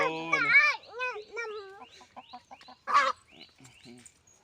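A four-month-old, home-hatched, all-black Aseel cockerel calls in a string of short, rising and falling crowing and clucking notes, heard close and clear in a quiet setting, with a person speaking briefly between the calls.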